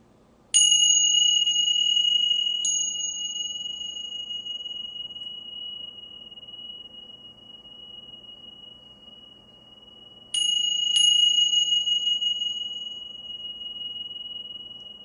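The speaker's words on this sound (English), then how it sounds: "Just gonna ring the bell." A small bell is struck twice, then twice again about ten seconds later, each ring bright and close, with a long clear tone fading slowly in a quiet room.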